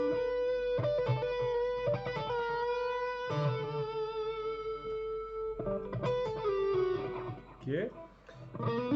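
Electric guitar lick played with pull-offs and finished with a whammy bar dip, clean-to-lightly driven tone at moderate volume, quick melodic phrases with a wavering pitch bend near the end, no talking over it.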